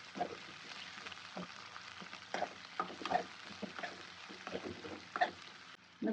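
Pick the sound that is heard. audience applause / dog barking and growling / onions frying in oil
onions frying in oil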